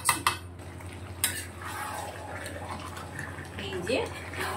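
Chicken being slowly sautéed and stirred in a pan, with soft clinks and scrapes of a utensil against metal over a low background hum, a few sharper knocks near the start; a voice is faintly heard.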